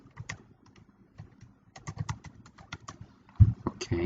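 Computer keyboard typing, with quick clusters of close, crisp key clicks and pauses between bursts, ending with a louder clatter of keystrokes.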